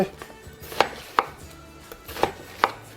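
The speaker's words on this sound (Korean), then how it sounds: "자 이렇게 반을 자르시고" A knife cuts through a watermelon, halving it: four sharp, crisp chopping strikes spaced about half a second apart, close and distinct, with no talking.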